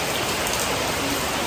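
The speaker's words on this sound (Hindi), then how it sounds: "शाम को 7 बजे से अभी तक कंटिन्यू बारिश हो रही है, कंटिन्यू।" Steady continuous rain on the first winter night, falling evenly and hissing on surfaces as a dense, unbroken wash of close drops, with no voices over it.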